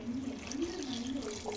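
Water poured into a pressure cooker holding mutton, a soft steady trickle and splash with faint kitchen background close by.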